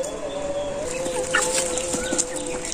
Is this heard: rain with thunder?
no